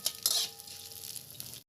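Spices with chana dal, urad dal and chillies crackle in a hot pan, a short close sizzle with a couple of quick stirring scrapes at the start, then settling into a soft steady fry.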